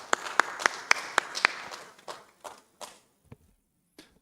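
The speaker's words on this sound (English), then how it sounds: "request Dr. Tsai to the stage with a big round of applause" A conference audience gives a short burst of applause as a doctor is invited onto the stage; several loud, sharp claps come first, then fade into scattered single claps before falling silent.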